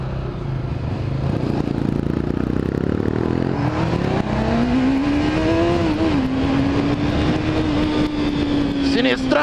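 A Honda CBR 600F motorcycle hums steadily as it is ridden, the engine tone rising and holding under wind noise, with a rider talking over it throughout.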